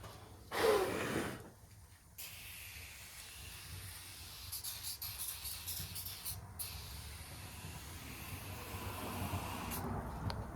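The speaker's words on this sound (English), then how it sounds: "If I spray some adhesion promoter on here" A short, loud burst of aerosol spray hiss as adhesion promoter is sprayed from a can in a paint booth, then a longer steady hissing spray that continues under faint background noise.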